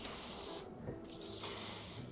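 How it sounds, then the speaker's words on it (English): Water sprays over houseplants in a continuous hissing shower, briefly interrupted and then resuming, close and fairly soft. "I just shower them with water"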